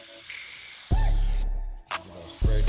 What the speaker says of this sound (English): You're gonna spray through that.